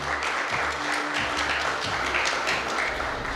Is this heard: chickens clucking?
no